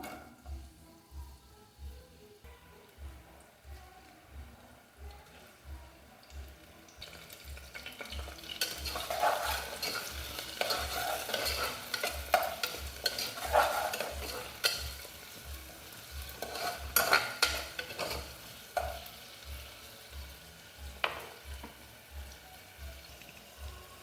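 Chopped onions and curry leaves fry in oil inside a pressure cooker for potato curry, a steady sizzle rising partway through with scattered pops and crackles, a low rhythmic hum underneath, no talking.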